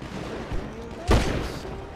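Sharp burst of gunfire in GTA V, a single loud shot or short volley standing out from a busy game background, with faint chatter and smaller impacts around it.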